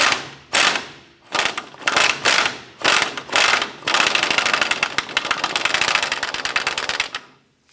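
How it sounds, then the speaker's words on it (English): Close ratchet strokes loosen an upper ball joint nut on a 1994-2004 Chevy S10 with a 22mm swivel socket and extension, several separate clicking pulls giving way to a long continuous run of fast clicks. "Using our 22mm swivel socket with an extension, we're going to go ahead and loosen this nut on the upper ball joint."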